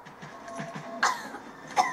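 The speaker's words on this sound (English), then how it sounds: "Whoa, she's coughing blood." A woman character coughs in Resident Evil 4, a series of short hacking bursts followed by two sharper, harsher coughs close up, with no talking.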